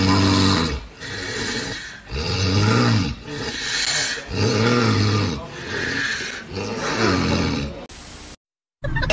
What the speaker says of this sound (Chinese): 盘点全网睡觉打呼噜爆笑合集。